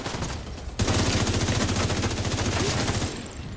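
Rapid automatic gunfire in Division 2, a loud burst of closely spaced shots lasting a couple of seconds before cutting off.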